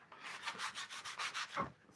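Sandpaper rubs back and forth across a walnut wooden bowl in quick, even strokes, about a dozen rhythmic rasping passes, close and fairly quiet, with no talking.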